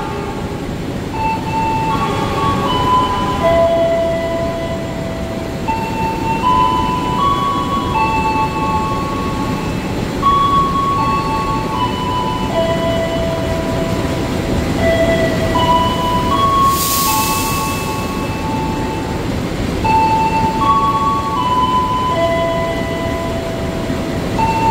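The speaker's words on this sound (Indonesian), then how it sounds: "Oh, ternyata lokomotif penarik Argo Semeru ini 206-1504 teman-teman." An Argo Semeru executive passenger train hauled by locomotive 206-1504 rumbles loudly and continuously, with a steady low roar and faint tonal squeals drifting through, heard as if from on board, with no speech.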